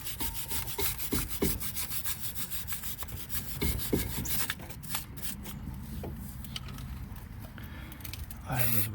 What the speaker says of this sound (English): And then clean the caliper a little bit.